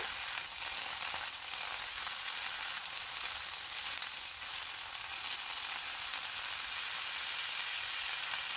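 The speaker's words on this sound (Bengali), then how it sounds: "এবারে ভালো করে নেড়ে চেড়ে আলু সহ মশলার সাথে ভালো করে মিশিয়ে নেব।" Chopped bottle gourd leaves, stalks and potato stir-fried with spices in a pan give a steady, even hiss of frying that holds close and continuous throughout.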